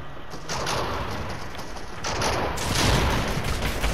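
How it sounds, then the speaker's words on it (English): Dense gunfire from a Fortnite match, a loud continuous rattle of shots close by that swells louder in the second half, with no talking. "that boy shooting me in the back"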